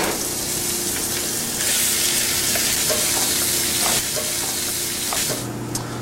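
Onions frying in oil make a loud, dense, continuous sizzle close up, with stirring scrapes rising and falling underneath.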